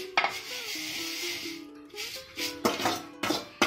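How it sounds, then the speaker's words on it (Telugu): Semiya (vermicelli) fries in a pan for upma with a steady sizzle, broken by several scraping stirs that come in short bursts close by. "ఇట్లా ఫ్రై చేసుకోవాలి."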